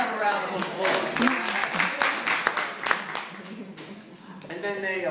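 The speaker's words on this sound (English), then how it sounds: "Let's have a round of applause." Audience applause, a burst of many hands clapping that swells and then fades, with a voice speaking over the start and returning at the end.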